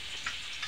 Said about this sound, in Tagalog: Pinigisa na po ang luya.